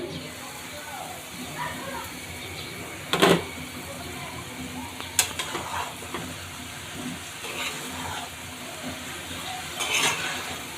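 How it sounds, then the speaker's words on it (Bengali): Cabbage curry being stirred in a pan: soft scraping and scuffs of a spatula over a low steady background hiss, with a few sharper clinks around the middle and near the end. "এবার একটু সুন্দর করে নেড়ে চেড়ে নিচ্ছি"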